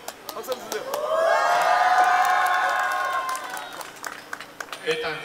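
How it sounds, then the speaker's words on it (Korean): A concert audience at a live show in Busan claps and cheers, a swelling burst of applause with a high sustained whoop rising over it, then fading into scattered claps. "박수 한번 주세요"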